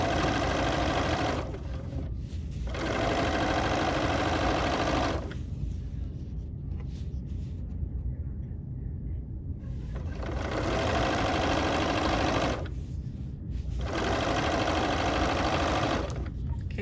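A sewing machine stitches a quilt up to the edge of the presser foot, running in steady whirring bursts broken by short pauses, loud and close with no talking.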